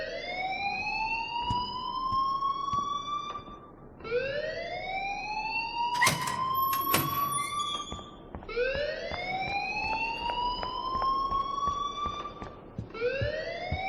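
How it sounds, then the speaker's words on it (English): A school fire alarm in the video game Life is Strange wails in repeated rising electronic sweeps, each about four seconds long, loud and continuous. Brief sharp beeps cut in around the middle. "please turn off that alarm since that's your job."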